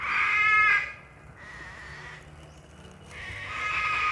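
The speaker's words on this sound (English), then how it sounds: "This is a horse." A horse at Malagos zoo gives two shrill, loud whinnies separated by a quieter pause, the second rising near the end, with faint background ambience.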